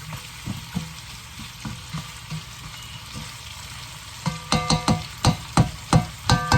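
Adobong sitaw, string beans with meat, frying in a pan and being stirred; a steady sizzle runs throughout, with soft scraping strokes early and then a quick run of louder, rhythmic clanks and scrapes toward the end.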